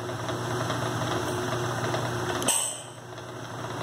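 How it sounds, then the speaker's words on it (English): A Barker PM horizontal mill slots custom flintlock screws held in a collet, producing a steady mechanical whir and chatter that drops in level partway through. "Put a new screw in, close the collet, slot the screw,"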